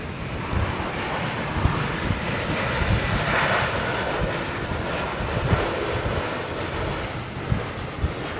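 A jet airliner coming in to land at London Heathrow Airport, a loud, close, continuous roar of engines with broad rushing noise and some wind buffeting on the microphone, holding steady throughout.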